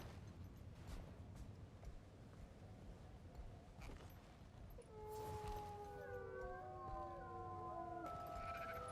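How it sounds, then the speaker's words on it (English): Wolves howling at night in Guild Wars 2, several long rising and falling howls overlapping in the second half over a faint, windy night ambience, fairly quiet and distant, with no talking. "Hearing the wolves howl in the night"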